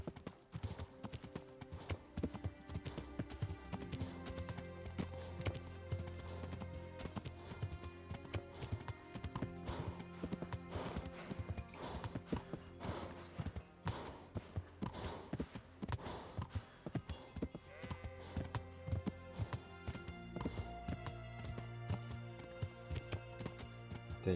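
Horse hooves clip-clopping in Kingdom Come: Deliverance, a steady rhythmic trot that runs throughout over game music, with only faint voice beneath it.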